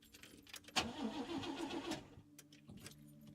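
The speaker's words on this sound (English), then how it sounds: "Car won't start." Car in the adventure game Lorelei and the Laser Eyes cranking but failing to start, a faint jangle of keys followed by a sputtering engine crank, then quieter clicks and hum.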